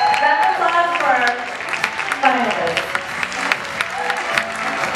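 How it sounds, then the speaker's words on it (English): Audience at a dance competition applauds the finalist couples, sustained clapping filling the room while a host speaks over it. "That applause for our"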